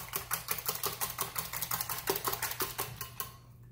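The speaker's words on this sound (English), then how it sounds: "We're just going to give them another good whisk to make sure I've got them all incorporated properly" Eggs seasoned with salt and pepper are whisked briskly in a bowl for a mini quiche: quick, even clicking strokes at a steady rhythm, fairly quiet and close, ending abruptly.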